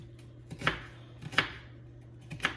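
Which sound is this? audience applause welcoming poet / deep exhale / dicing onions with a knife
dicing onions with a knife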